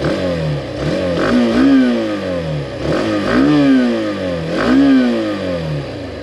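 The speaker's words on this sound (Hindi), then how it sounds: "एग्जॉस्ट नोट मैं आपको सुना देता हूँ," Hero Xtreme 160R Dark Edition motorcycle revving while stationary, its exhaust note rising and falling through three or four throttle blips with clear harmonic sweeps, close and loud with no talking.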